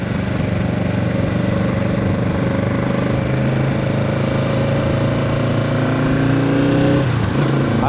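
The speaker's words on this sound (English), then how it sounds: "this 2025 Kawasaki Z650 was not my first bike" A 2025 Kawasaki Z650 motorcycle engine runs steadily and loud throughout, a close, continuous mid-pitched drone that rises slightly near the end with no talking.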